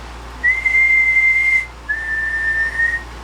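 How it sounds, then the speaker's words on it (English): A person whistles two long, steady high notes into a microphone on a ham radio linear amplifier bench, each held for about a second with a short pause between, close and clear over a faint background hum. "Let me see if I can get my whistle to work."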